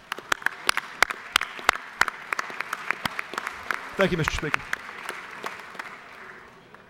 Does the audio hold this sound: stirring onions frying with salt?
no